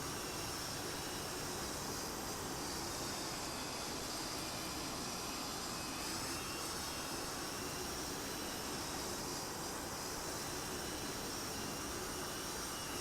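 A Mirage jet comes in to land behind a Phantom on the same runway in a video game, a loud continuous engine roar and hiss that holds steady throughout without talk.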